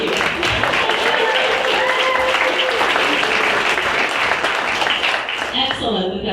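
Audience applause fills a lecture hall, loud and continuous, then tapers off near the end as a voice begins speaking.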